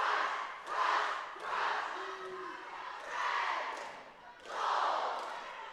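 Crowd at a district cheerleading championship cheering and chanting in rising and falling waves, loud and reverberant, with rhythmic shouted calls from the fans.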